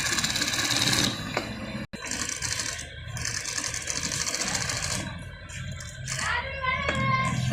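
A sewing machine runs a double row of stitching along the edge of a jali-pattern garment, whirring steadily and close, with a brief break in the middle before it resumes.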